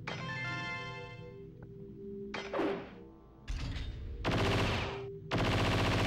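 Heavy, rapid gunfire from Haseo's guns in the .hack//GU video game comes in several loud, dense bursts, separated by brief pauses and game tones.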